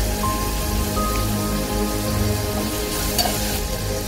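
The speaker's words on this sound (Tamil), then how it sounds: "அதனால் கொஞ்சமாக உப்பு சேர்த்து நல்லா வதக்கிக்கலாம்." Onions sautéing with salt and ginger garlic paste in a pan for mutton soup, a steady close sizzle with light stirring scrapes and no talking.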